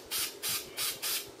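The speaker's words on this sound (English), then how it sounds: "I'm going to spray some into the receiver where it's going to receive this barrel" Oil is sprayed from an aerosol can into an AR-15 upper receiver in four even, short hissing bursts, close and fairly loud, with brief gaps between them.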